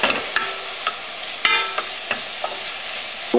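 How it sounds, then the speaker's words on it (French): Onions frying in a pan over a low flame, a steady fine sizzle with a few sharp clicks and scrapes of stirring, close and alone. "Une fois que les oignons rissolent dans la poêle"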